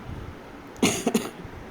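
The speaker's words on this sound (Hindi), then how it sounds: "देखिए अब भी खांसी हो रही है मुझे हल्की हल्की" A woman coughs a few times in quick succession, close and fairly soft, after a quiet stretch of background hiss.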